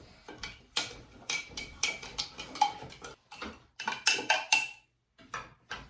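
A spoon stirs a mixture in a container for a home science experiment, making quick, rhythmic clinks and scrapes. The sound is fairly quiet, pauses briefly midway, and plays without talk.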